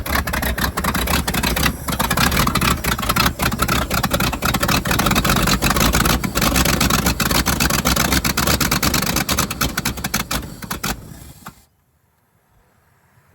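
A cabover truck engine runs roughly on choke, a loud, close, uneven rumble with sputtering irregular firing that holds for about eleven seconds before abruptly choking out and falling to near silence.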